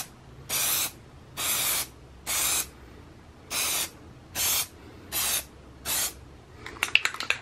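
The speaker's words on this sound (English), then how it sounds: "just shake your bottle and spray going straight" An aerosol can of Plasti Dip sprays onto car emblems in seven even, close hissing bursts of about half a second each, separated by short pauses, followed by faint clattering.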